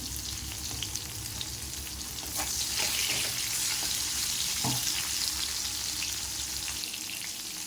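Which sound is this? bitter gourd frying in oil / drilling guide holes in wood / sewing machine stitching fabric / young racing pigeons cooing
bitter gourd frying in oil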